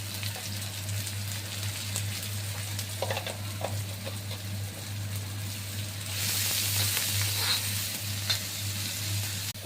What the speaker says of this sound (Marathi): तेल गरम झाल्यावरती कांदा घालायचे.